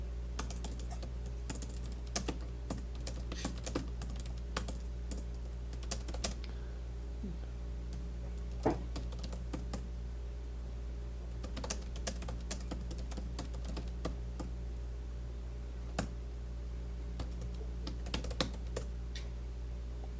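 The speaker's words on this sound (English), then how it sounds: "listen to how my keyboard typing sounds" Computer keyboard typing at a home streaming desk, with irregular bursts of quick clicky keystrokes and brief pauses, fairly close and steady over a low electrical hum, no talking.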